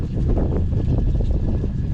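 Strong gale-force wind buffets the microphone outdoors in a storm, a loud, continuous low roar with gusting rumble that fills the whole clip and never lets up.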